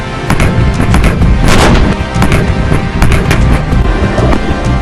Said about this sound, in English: I guess you'll have to be at the target end to realize the effect of tank firepower.